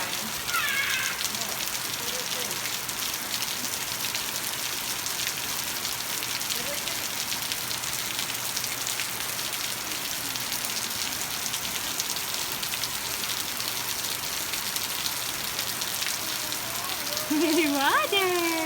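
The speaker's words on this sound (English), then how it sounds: "It's raining!" Steady rain hissing and pattering across the whole stretch, with faint voices and a brief high squeal near the end.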